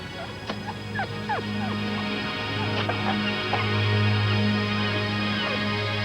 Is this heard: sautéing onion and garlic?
no